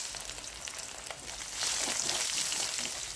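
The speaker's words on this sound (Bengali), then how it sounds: "কোফতাগুলোকে ভেজে নেব।" Raw banana koftas frying in hot oil in a wok, a steady crackling sizzle that swells louder and denser partway through, with no talking over it.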